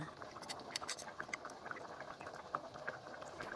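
Quiet bubbling and popping of a pot of chicken salona stew simmering at a low boil, with soft irregular blips over a faint steady hiss.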